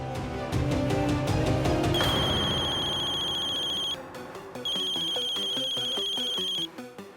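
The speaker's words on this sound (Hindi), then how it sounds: "अम्मा का फोन।" A mobile phone ringtone rings loudly and close, a bright repeating electronic melody that stops briefly and then resumes before cutting off, with no talking.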